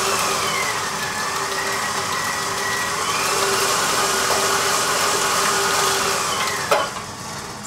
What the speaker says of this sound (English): Now we are gonna beat these in really nicely.